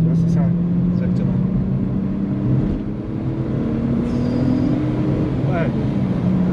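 A 1990s VW Golf VR6 with its six-cylinder engine accelerating hard, a close in-cabin engine note rising steadily in pitch and pulling continuously, with people talking over it.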